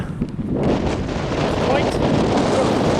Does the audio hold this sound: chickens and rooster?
no